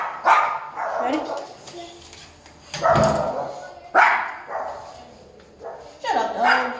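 A dog barks in several loud, sharp bursts spaced a second or so apart, close by indoors in an apartment on a rainy day, with people talking between and over the barks.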